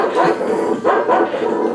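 A dog from the Earthworm Jim video game barks twice in quick succession, loud and close, with a short yelping tone typical of game sound effects.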